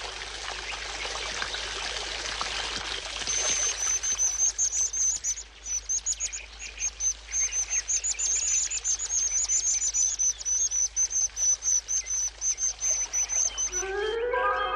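A white-throated dipper at its nest by the Dulce river gives high, thin, rapid calls that repeat steadily over the constant rush of flowing water, with a short burst of lower chirps near the end.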